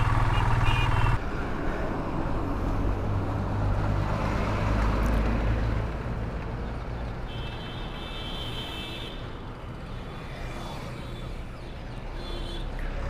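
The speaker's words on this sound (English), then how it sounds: "Guys, my tire got flat and I'm riding my bike like this" A motorbike ridden along a road on a flat tire gives a steady, close engine drone with continuous rumbling road noise throughout, loud and unbroken with no talking.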